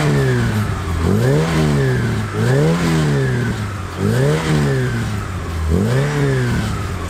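A Volkswagen Golf GTI Mk2 engine revs repeatedly, rising and falling in pitch in about four regular swells, loud and close with a throaty mechanical tone and no talking.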